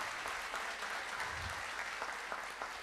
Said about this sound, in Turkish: Kendisine bir kez daha alkışlarız.